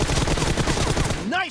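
Rapid bursts of automatic gunfire from a PUBG Mobile match, loud and dense for over a second, then a short electronic swept tone as the firing stops.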